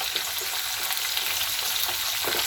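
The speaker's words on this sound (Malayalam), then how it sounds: "അത് നമുക്ക് ഈ എണ്ണയ്ക്കകത്തോട്ടിട്ട് ഫ്രൈ ചെയ്തെടുക്കാം" Eggs frying in hot oil make a continuous dense sizzle and crackle. It is fairly loud and close, with no voices.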